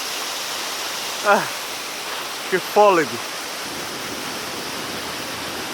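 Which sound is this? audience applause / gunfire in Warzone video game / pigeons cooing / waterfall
waterfall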